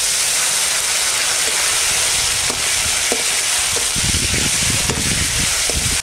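Raw ground cumin paste hits hot oil with whole cumin and chilies, giving a loud, constant sizzle and hiss with occasional stirring clatter, cooking a small hilsa curry.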